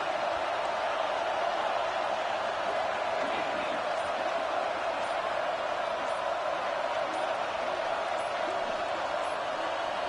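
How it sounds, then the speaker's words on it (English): A stadium crowd at a football game keeps up a loud, steady roar throughout, with a commentator talking over it. "Listen to this crowd just shaking the girders of this place"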